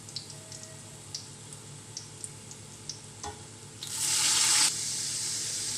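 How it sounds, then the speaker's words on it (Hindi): Water poured into a cooking pan while making chicken curry, a sudden bright hissing rush lasting under a second after quiet ticking and small clinks, then a softer steady sizzle continuing. "थोड़ा सा पानी डाल देती हूँ।"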